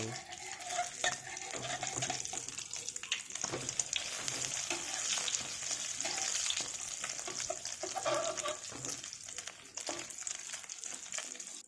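Minced pork omelette fries in a pan over medium heat, giving a steady, close, loud sizzle that runs the whole time, with occasional scrapes and stirring clatter and no talking.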